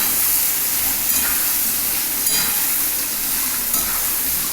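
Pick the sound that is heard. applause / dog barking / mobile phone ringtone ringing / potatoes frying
potatoes frying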